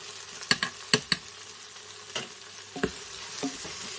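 Flour is stirred into lamb browning in a pressure cooker for a lamb bourguignon, giving a soft continuous sizzle broken by several sharp scraping clicks of the spoon against the pot, close up with no talk.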